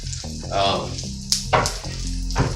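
Roughly chopped onion frying in a pan, a loud, close, continuous sizzle with a few stirring clatters and scrapes over a low hum.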